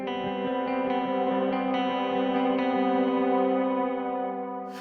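Clean electric guitar with no gain holds a steady melody line of ringing, sustained notes, close and even in level, fading slightly at the end.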